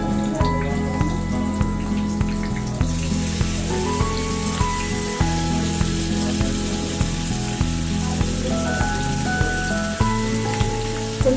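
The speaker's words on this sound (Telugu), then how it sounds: "చేపల ఫ్రై చేసానికి కోకోనట్ ఆయిల్ యూజ్ చేస్తున్నా" Fish frying in coconut oil with curry leaves gives a loud, continuous crackling sizzle with dense popping, running steadily throughout over a low tonal hum.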